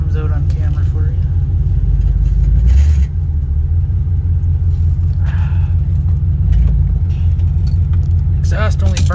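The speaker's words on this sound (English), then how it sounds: "Hopefully that nice rumble comes out on camera for you." A 1984 Hurst/Olds idles a little high with a deep, steady exhaust rumble close to the microphone, filling the whole stretch with only a slight dip partway through and faint voices now and then.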